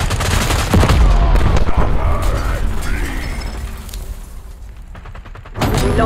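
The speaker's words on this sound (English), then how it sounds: "Deploying sentry turret." Sustained machine-gun fire from a deployed sentry turret in Call of Duty Black Ops 6 Domination on Nuketown, loud continuous bursts with sharp cracks and game effects mixed in, pausing briefly before another loud burst at the end.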